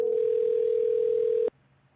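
A phone call's ringback tone plays close and loud as one steady tone for about a second and a half, then cuts off into quiet room noise.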